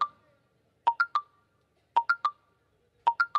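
A mobile phone rings during an award show, sounding as three short triple-beep bursts spaced about a second apart, clean and moderately quiet with no talk over them.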